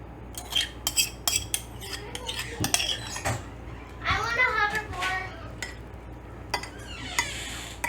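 A spoon clinks and scrapes against a dish as cauliflower topping is scooped onto a keto shepherd's pie, with a rapid series of metallic taps and scraping strokes. A person talks in between the sounds.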